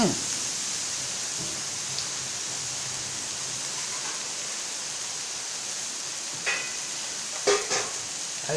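A pakbet and sinigang mixture is stirred in a pan, giving a steady, even sizzle throughout, with a few sharper scrapes and clinks of the utensil near the end.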